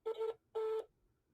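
Two steady electronic tones on a telephone line, each lasting about a quarter second with a pause between, clear and alone with no talking, heard during a call to report someone.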